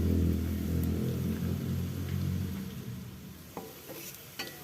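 Shallots frying in browned oil for Sundanese nasi liwet, a dense close sizzle with a low rumbling undertone, with a couple of sharp utensil clinks near the end.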